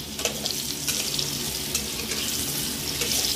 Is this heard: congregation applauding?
no